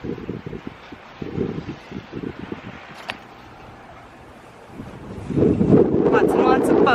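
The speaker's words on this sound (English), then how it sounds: "It's really, really windy." Strong gusting wind on Homer Spit in Alaska, buffeting the microphone in loud rumbling bursts near a harbor full of boats, with a person talking over it.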